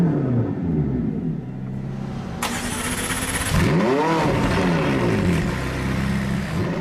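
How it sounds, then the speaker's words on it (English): A McLaren 675LT engine cranks and fires up, then revs sharply higher in a loud rising and falling sweep before settling back to a steady idle rumble. "it blips the engine significantly higher, much higher up the rev range"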